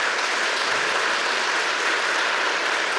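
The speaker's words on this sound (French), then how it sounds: "Donc on peut aussi les applaudir très très fort," Loud, sustained audience applause at a national conference's evening show, many people clapping hard in a dense, even roar that fills the whole stretch without letting up.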